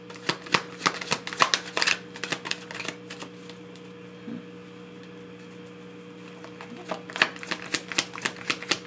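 Tarot cards being shuffled in bursts of crisp riffling clicks, a busy stretch at the start, a quieter pause in the middle, then more riffles near the end, close up over a steady low hum.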